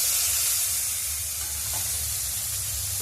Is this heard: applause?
no